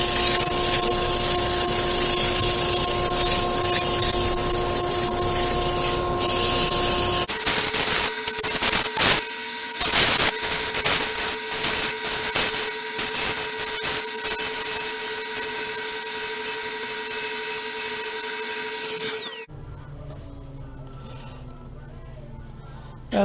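A wooden salt mill spins on a Rikon 70-220VSR Midi lathe while sandpaper is pressed against it, giving a loud continuous rushing whine with tonal motor hum that shifts as speed changes, then drops away to a quieter hum near the end.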